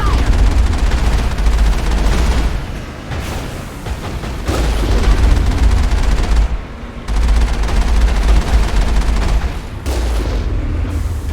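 Gunfire and rocket blasts in the video game Mass Effect 1 during a fight at a Geth camp, dense, loud bursts of shooting and booming impacts broken by short lulls, with someone speaking at times.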